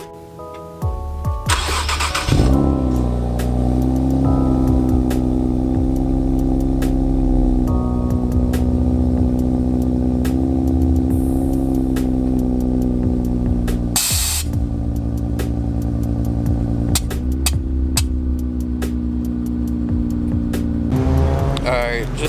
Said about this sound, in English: let's go ahead and do the cold start and then head on over there.